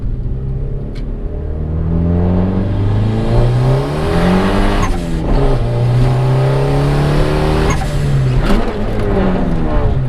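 Turbocharged Honda Accord on a test pull, its engine loud and close, revving up through rising pitch sweeps with brief dips between gears, a steady heavy roar filling the whole stretch.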